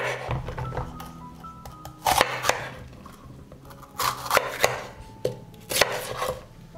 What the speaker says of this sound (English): I chop the pepper.